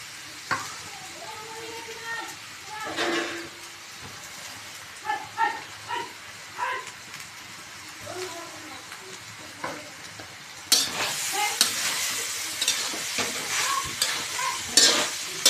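Rice is stirred and fried in a pan for a large batch of fried rice, with scraping spatula strokes coming in bursts over a steady sizzle that swells louder toward the end.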